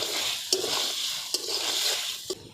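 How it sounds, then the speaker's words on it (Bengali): Potato curry (alur dum) with yogurt and kasuri methi is stirred in a pan under a gentle, continuous sizzle. Three sharp spoon knocks against the pan fall about a second apart. "আবারও কিছুক্ষণ নাড়াচাড়া করে নেব।"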